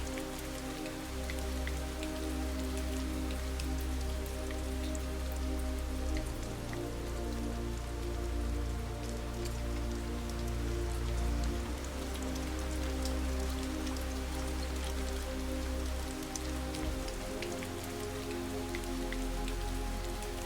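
Steady rain falls on a surface in a continuous, even hiss with dense pattering drops and a low rumbling undertone, unbroken for the whole stretch and with no voices.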